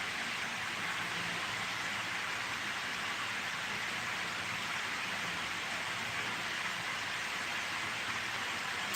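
Steady rain falls on a farm, a constant even hiss with no breaks and no voices throughout.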